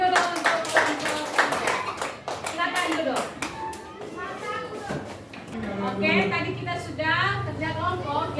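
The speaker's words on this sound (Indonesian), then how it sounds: "Oke, kita tepuk tangan" A classroom group of children and their teacher clapping hands together, a burst of quick sharp claps at the start tapering off as voices of kids and an adult talk over the rest.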